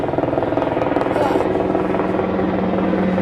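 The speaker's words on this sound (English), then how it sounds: "Here comes the chopper." A military helicopter passes overhead with a loud, steady rotor thrum and a pulsing chop that holds through the whole short stretch.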